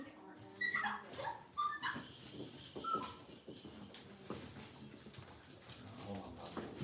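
Cavalier puppies and larger dogs whimper and yip in short, uneven bursts, fairly close and indoors, with a person talking softly between the cries.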